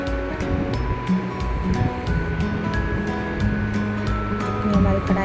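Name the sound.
french fries frying in hot oil in a wok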